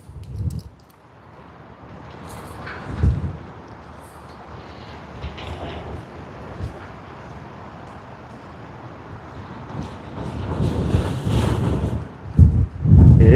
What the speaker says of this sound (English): The wind is getting a bit worse.